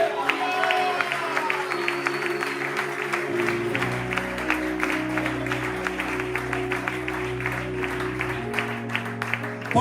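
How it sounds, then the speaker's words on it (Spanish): Applause breaks out during a Bible study gathering, a moderate round of clapping from the congregation over a sustained keyboard or musical drone and low hum. "Yo le daría un fuerte aplauso a Dios."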